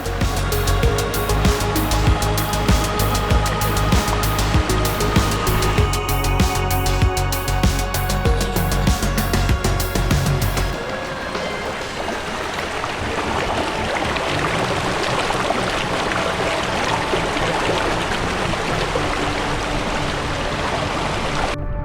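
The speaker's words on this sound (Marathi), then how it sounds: "शेतात भरलेले हे पाणी मस्त खळखळ वाहून जात आहे." Rainwater from a flooded field in Jawhar rushes and gurgles past in a loud, continuous flow. A harsher, crackling layer fills the first half, then gives way to a smoother, steady rush.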